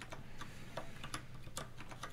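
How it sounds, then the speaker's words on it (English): Keys tapped on a computer keyboard in irregular light clicks, faint and close, spaced unevenly across a quiet background with no talk. "Having trouble typing today, so I do apologize."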